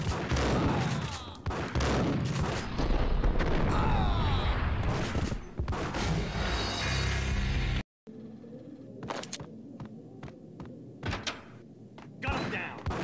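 Gunfire from the PC shooter Max Payne, dense bursts of shots and impacts packed loudly through the first eight seconds, then after a brief gap, sparser sharp single reports ring out against quieter game ambience.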